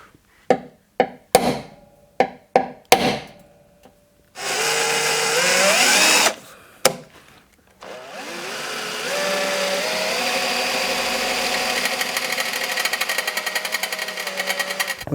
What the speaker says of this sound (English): so I drilled up to 8, I think.